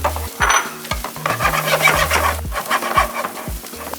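Chopped onions frying in oil, with a busy sizzle under repeated scraping stirs of a utensil against the pan, close and fairly loud.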